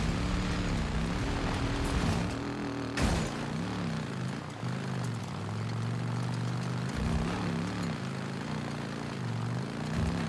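A motorcycle engine drones at a steady pace while riding along a road in the video game Days Gone, a continuous throaty hum with slight shifts in pitch and one brief louder blip.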